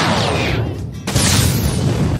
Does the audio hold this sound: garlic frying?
no